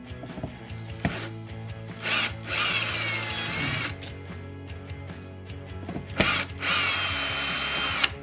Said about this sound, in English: Next, using my cordless drill, I'll take the old switch out.